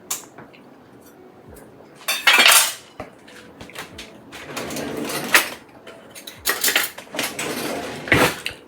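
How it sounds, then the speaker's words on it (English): Sliced onions drop into a pot of oven slow-cooked beef stew, giving several short, loud bursts of scraping and clattering spread through the clip, with quieter kitchen handling between them. "Just going to add those onions right in there."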